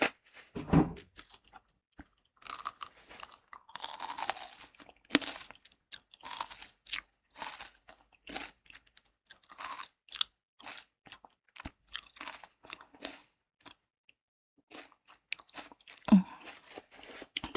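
Close, quiet crunchy chewing and biting on a mouthful of spicy pork rice soup (dwaeji gukbap), soft wet bites recurring steadily with brief pauses, no talking.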